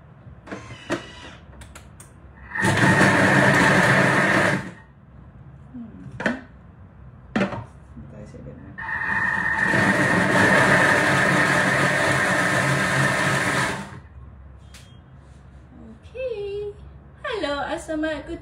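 A Thermomix purees ten fresh tomatoes for a vegan tortilla soup in two loud, sustained whirring bursts, the second longer than the first, with people talking in the gaps between them.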